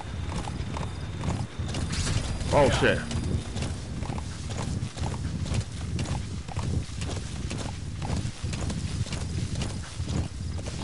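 Horse hooves clip-clop in a steady rhythmic gait in the Metal Gear Solid 5 video game, running under a player's talk and game ambience, with a brief neigh partway through.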